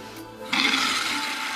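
Water rushes steadily through a TOTO replacement fill valve into a toilet tank after a short quiet start, a loud hissing flow that continues without letting up.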